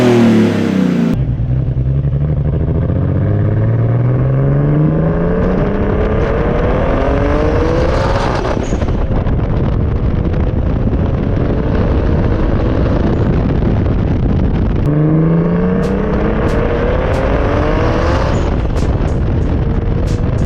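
A Nissan 240SX pulls hard through the gears, its engine rising in pitch again and again with brief drops at each shift, loud and continuous with heavy wind and road roar, ending in rapid crackles.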